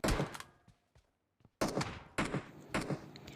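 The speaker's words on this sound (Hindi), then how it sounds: "अभी मेरे ऊपर गन शॉट पड़े" Gunshots in a mobile battle-royale shooter, fired at the player: a sharp burst, a few faint isolated pops, then three loud, closely spaced blasts, each with a short ringing tail.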